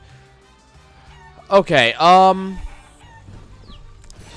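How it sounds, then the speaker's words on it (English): A chicken in the video game Guacamelee gives a loud, brief burst of clucking and squawking, two close calls in the middle of the clip, over quiet game background with a short spoken word. "One of them has something to do with this chicken."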